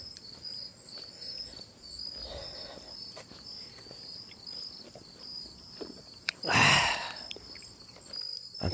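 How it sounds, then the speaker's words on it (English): Crickets chirp steadily at night along a quiet walking route, a faint continuous high trill running throughout, with soft footsteps and a brief louder rustle or passing noise partway through. "You can hear the crickets chirping."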